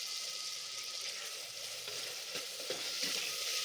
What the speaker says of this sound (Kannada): ಇದೆಲ್ಲ ಸ್ವಲ್ಪ ಫ್ರೈ ಮಾಡ್ಕೊಳ್ಳೋಣ